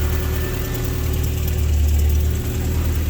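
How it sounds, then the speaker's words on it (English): Mazda MX-5 engine fitted with a Kraken assembly running at idle, a loud, even low rumble with a steady throb close by and no talk over it. "listen how nice she's running."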